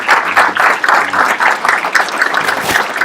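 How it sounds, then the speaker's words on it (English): A ceremony crowd claps for retiring police K-9 Cletus, loud close hand clapping with an uneven pulsing rhythm that carries steadily throughout, no speech over it. "I would ask that you give him a round of applause"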